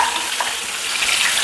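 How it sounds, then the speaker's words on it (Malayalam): Pearl spot fish frying in a pan, two fish laid side by side, giving a steady, close hissing sizzle of hot oil that holds evenly throughout with no voices. "നമുക്ക് കരിമീനെ വറുക്കാനായിട്ട്"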